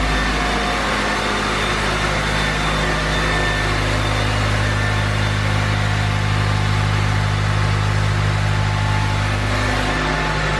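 A K20 engine in an Acura RSX idles after a timing chain replacement, a steady close low hum with an even drone and no misfire, with no talk.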